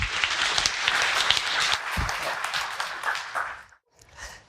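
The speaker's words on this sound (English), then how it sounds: "let's have a round of applause for her and get things started" An audience applauds for someone speaker at a talk on international SEO, dense sustained clapping that tapers off and stops near the end.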